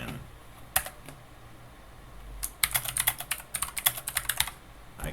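Typing on a computer keyboard in a quiet room: a few isolated key taps, then a quick run of rapid, crisp clicks, close and moderately quiet, with no talking.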